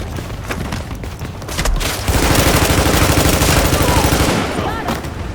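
Heavy automatic gunfire rattles in The Division video game, sustained bursts of rapid shots with booming impacts that build to a dense, loud fusillade before easing off, with combat chatter faintly mixed in.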